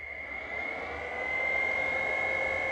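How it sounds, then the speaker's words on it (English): A steady mechanical whir with a high whine, swelling slightly louder partway through as the cooling fan of a vintage AT1 three-phase inverter spins up close by. "Fan comes on."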